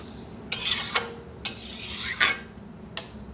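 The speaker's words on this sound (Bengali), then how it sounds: "ভালো করে মিশিয়ে নেব" A ladle stirs and mixes vegetable dal in a cooking pot, giving a few short scraping, swishing bursts separated by pauses, close and fairly clear with no talking.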